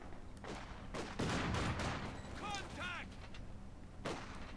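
Bursts of MG34 machine gun fire in the strategy game Company of Heroes 2, clattering in short volleys amid distant battle booms and rumble, with a voice talking over the combat.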